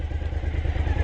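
A motorcycle engine on the freeway heard from the rider's seat, a low throbbing drone with rapid pulsing rumble and wind noise, close and steady for a second.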